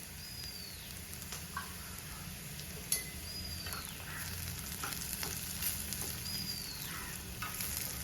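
Small shallots fry in hot oil over low heat for a Kerala curry tempering, a steady close sizzle and crackle with soft spattering pops and occasional stirring clinks, no talking.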